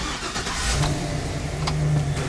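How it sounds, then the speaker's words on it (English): A Chevrolet Express van's 6.0L engine, with a P0128 thermostat code, cranks and catches, settling into a low running rumble with a brief rev, close by. "So I'm gonna start the van first."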